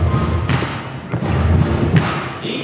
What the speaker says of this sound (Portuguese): Vocês podem deixar as suas pegadas no chão, batendo o pé bem forte,